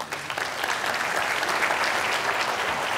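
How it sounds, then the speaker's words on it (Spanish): Audience applause at a strategy conference, a dense, even wash of clapping that holds steady from start to finish. "Un aplauso"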